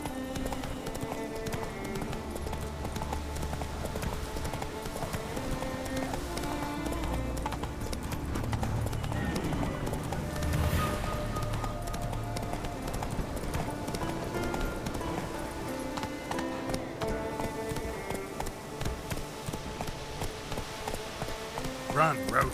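Horse hooves gallop in a steady, rapid clip-clop rhythm in The Witcher 3 video game, continuing throughout over game music and ambience.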